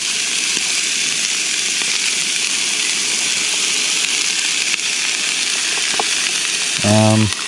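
Food sizzling and frying in a non-stick pan on a remote camping trip in Baxter State Park, a loud, continuous crackling hiss throughout, with a brief tonal hum near the end.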